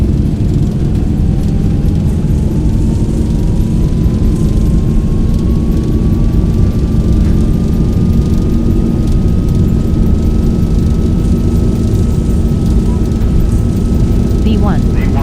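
Airliner jet engines spool up at takeoff thrust in the X-Plane 11 flight simulator, a loud, steady roar with a slowly rising whine that holds throughout.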